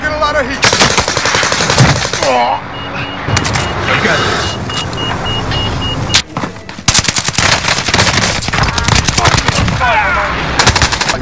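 Rapid bursts of automatic gunfire from a Warzone match on Rebirth Island, loud and near with dense rattling volleys across most of the stretch, broken by a brief lull, while players talk over it.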